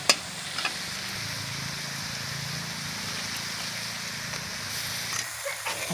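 Potatoes and chopped green chilli sauté in a pan, sizzling steadily up close with occasional stirring clinks and scrapes over the continuous frying hiss.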